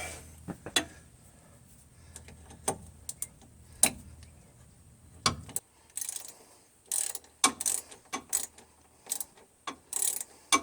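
A hand ratchet with a 7/16 inch 12-point socket loosens the bolt on a steering box rag joint, giving sharp, close clicking bursts with short pauses between them and a faster run of clicks toward the end.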